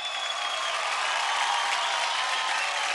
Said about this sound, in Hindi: एक बार फिर से जोरदार तालियां फॉर मानसी एंड हर्षदीप।